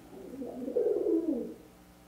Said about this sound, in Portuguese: Pombo Pi.